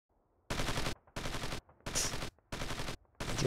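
Mortar and machine-gun fire from the 2003 war game Squad Assault: West Front, five loud, evenly spaced bursts of roughly half a second each, separated by short silences.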